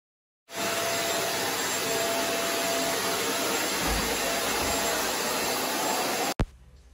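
A Steam and Clean steam vacuum cleaner runs with a loud, steady broadband whine and rush that starts abruptly and holds constant for about six seconds before cutting off with a brief thump.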